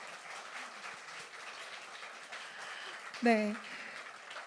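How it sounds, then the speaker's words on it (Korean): Faint applause from a small audience at a university breakfast forum on classical music, thanking the lecturer. The soft, diffuse clapping is heard at a distance, and a voice speaks one brief word partway through. "오늘 멋진 강연 해주신 우리 조윤모 선생님께 다시 한번 큰 박수 부탁드리겠습니다"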